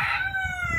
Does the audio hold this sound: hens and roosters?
yes